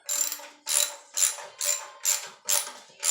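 Washers on a minnow bucket lamp are tightened with a ratchet. It gives six evenly spaced bursts of clicking, close and fairly crisp, with short silences between them.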